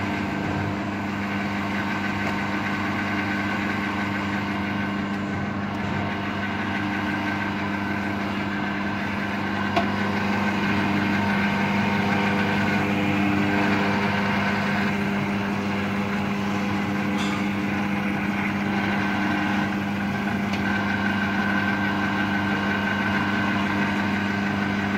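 ROBOWASH automatic self-service mat cleaning machine running, a steady mechanical hum with a low motor drone that stays even and continuous throughout, close by and without talk.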